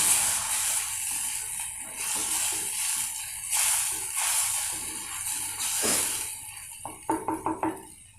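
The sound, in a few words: mint masala boiling in pan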